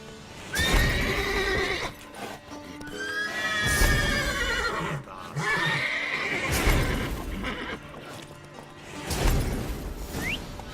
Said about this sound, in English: Gotta call the horses before they wake the guards.